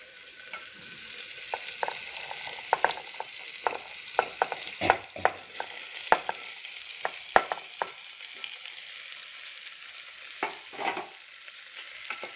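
Mangalore cucumber pieces, peeled and seeded, frying in a spice tempering, giving a steady soft sizzle broken by frequent sharp clicks and scrapes of stirring, fairly quiet and without talk.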